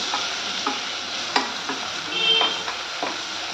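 Chopped onion, with tomato, frying in a pan for a sorrel-leaf curry and being stirred. A constant close sizzle runs throughout, broken by a few sharp spatula knocks and scrapes, with no voices.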